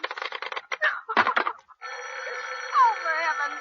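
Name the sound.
telephone ringing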